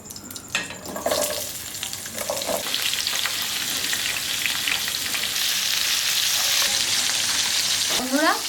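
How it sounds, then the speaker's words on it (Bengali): Carrot, cauliflower, beans and capsicum sizzle together in hot oil for a restaurant-style mixed vegetable dish, a loud continuous fry broken by scraping stirs and clinks of the utensil against the pan. "বন্ধুরা এবার গাজর ফুলকপি বিনস আর ক্যাপসিকাম একলগে ভাজ্য নেব"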